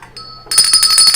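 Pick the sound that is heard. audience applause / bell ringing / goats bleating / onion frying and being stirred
bell ringing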